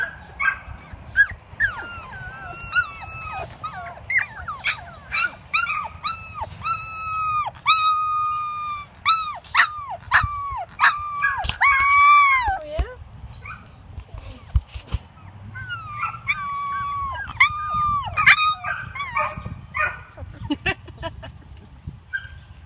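A dog vocalizes repeatedly in bursts of yelps, whines and howl-like barks, some at a distance, with brief pauses between.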